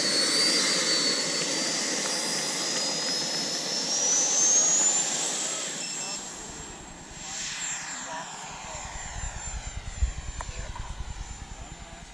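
A Freewing F-22 Raptor 90mm RC jet runs loud and close on a farm, its turbine whine rising in pitch and then sweeping past with a roaring rush that fades into wind buffeting.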